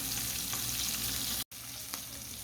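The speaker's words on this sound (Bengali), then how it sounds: "মাছ ভেজে নিচ্ছি, রুই মাছ।" Rohu fish frying in hot oil sizzles steadily and closely, a dense crackling hiss with a brief cut partway through, and no talk.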